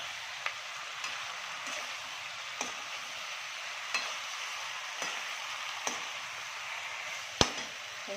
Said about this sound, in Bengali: এইবার দিয়ে দেবো ভাজা চিকেনটা, দিয়ে দিলাম। এবার ভালো করে এটা কষিয়ে নেবো।